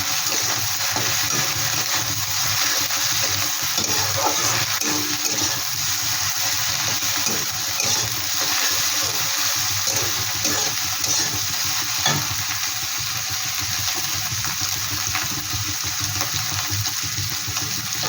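Prawns fry in a pan with a loud, continuous, dense sizzle that stays even throughout, with occasional stirring movement and no talking.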